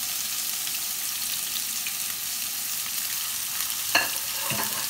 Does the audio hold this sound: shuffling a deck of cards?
no